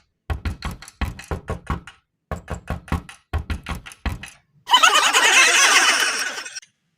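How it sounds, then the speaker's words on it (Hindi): Cartoon door knocking in bursts of rapid, loud raps, four quick groups of hard knocks, followed by a sudden rushing whoosh of smoke that fades out. "अब चाहे जितना भी दरवाज़ा बजता रहे"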